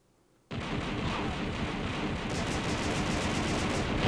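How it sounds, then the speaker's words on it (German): Loud explosion-like roar in the video game Star Wars: Shadows of the Empire, bursting in suddenly after a moment of quiet and holding as a dense, continuous rumble of blasts and gunfire-like crackle. "Die Explosionsgeräusche sind echt laut"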